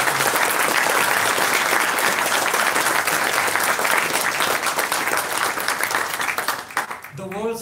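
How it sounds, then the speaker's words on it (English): Conference audience at JuliaCon 2018 breaking into sustained, dense applause, loud and even for several seconds before tapering off at the end. "I think Jared deserves a huge applause for all his amazing work."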